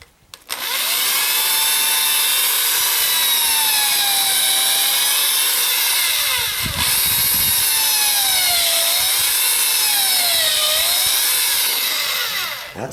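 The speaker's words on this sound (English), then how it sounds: "Basically, I want to get a pilot hole drilled in there." A power drill bores a pilot hole, running loud and close for about twelve seconds with a steady whine that rises and dips in pitch as the bit bites, and a brief stutter midway.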